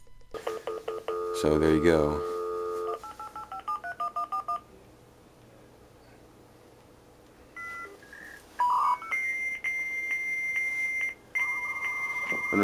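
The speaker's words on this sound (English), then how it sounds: "sound of it dialing in" An AOL dial-up modem connecting in 2015 dials a quick string of touch-tone beeps, falls briefly quiet, then sends out steady handshake tones and screeches. A voice speaks briefly over it.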